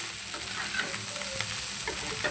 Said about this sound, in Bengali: বন্ধুরা দেখো আমার ভাত ভাজা হয়ে গেছে